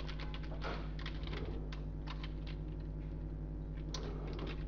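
Computer keyboard keys pressed while editing images in Photoshop, a few soft scattered clicks over a constant low electrical hum, faint and close, no voices.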